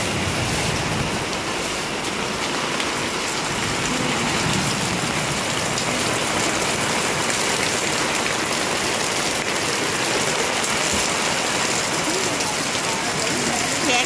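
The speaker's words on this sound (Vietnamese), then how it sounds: "trời mưa luôn mà, trời nắng mà mưa." Steady rain falls during a sunshower outside a home, a dense, even hiss of drops striking surfaces that continues unbroken and fairly loud from start to finish.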